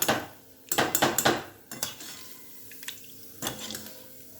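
Fried potatoes being moved onto a plate, with several sharp clinks and scrapes of utensils against dishes, close by, in quick bursts followed by quieter scattered taps.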